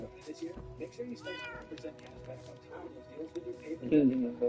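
Several cats gathered in one room of a video game meow repeatedly in short, overlapping calls, with a louder, drawn-out meow near the end, while a person talks over them.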